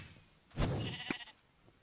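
A Minecraft sheep lets out a short, faint bleat in the game, followed by a few soft clicks and rustles.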